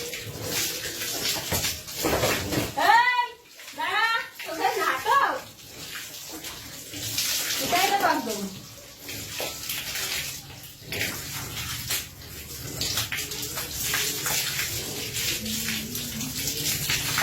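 Water splashing and pouring while a cow is bathed, with repeated sloshes and running water through the whole stretch as people talk and a cow makes short cries.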